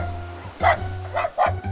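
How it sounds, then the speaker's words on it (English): Three short, sharp dog barks spaced irregularly over a low steady hum, fairly close and loud. "Dogs sure make a lot of noise."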